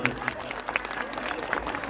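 Audience clapping at a live Satnam Panthi bhajan folk performance, scattered hand claps of moderate loudness over a busy crowd background, with steady rhythmic patter throughout.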